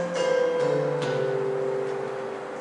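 Bass octave handbells rung with rockers sound a few deep tones struck in sequence, each with a sharp onset that rings on and overlaps the previous one, sustained and slowly decaying, heard alone and fairly close.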